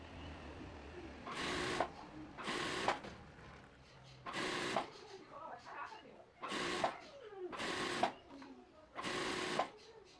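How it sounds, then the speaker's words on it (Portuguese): A straight-stitch sewing machine running a crotch seam on wide-leg trousers, six short whirring bursts separated by brief pauses, close but fairly quiet. "Alfinetou, vai na máquina reta e faz a costura."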